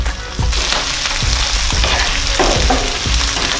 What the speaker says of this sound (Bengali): দিয়ে এবার সমস্ত মশলাটাকে খুব ভালোভাবে কষাবো